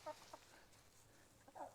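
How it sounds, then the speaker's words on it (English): A few faint clucks come from chickens in the background of a quiet outdoor spot: a short burst, a pause, then another soft cluck. "let's just say good day to the chickens"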